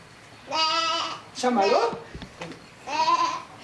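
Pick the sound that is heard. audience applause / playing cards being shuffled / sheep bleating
sheep bleating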